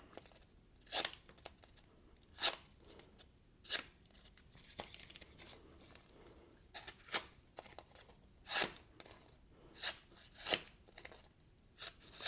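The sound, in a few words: tape being torn and applied to a knife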